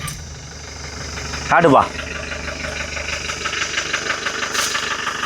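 A petrol Mahindra Bolero cranks briefly and catches, then settles into a steady, slightly knocking idle close by, with someone speaking a word over the running engine.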